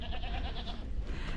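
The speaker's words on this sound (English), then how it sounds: "Goats are a fabulous animal." A goat bleats on a roadside in Jordan, a wavering, nasal call heard close and fairly loud over a low rumbling background, with no speech.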